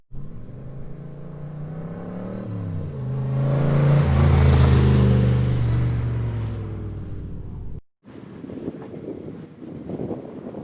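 A Ford Mustang V8 at an autocross event accelerates past, its loud engine roar rising and swelling with wind buffeting before cutting off abruptly, followed by quieter rumbling in the distance.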